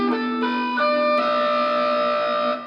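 Electric guitar in a heavy metal style plays a quick sweeping arpeggio, the notes ringing into one another with sustained distortion and effects, loud and alone throughout.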